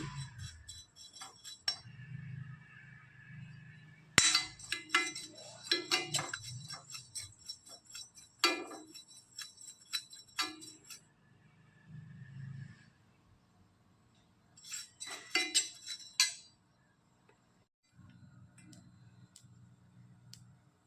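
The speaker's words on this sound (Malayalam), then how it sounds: "ഇപ്പം ജീരകം പൊട്ടി വരാൻ തുടങ്ങിയിട്ടുണ്ട്" Scattered sharp ticks and tiny crackles, irregular and close, with quiet gaps between bursts, like seeds popping in a hot pan.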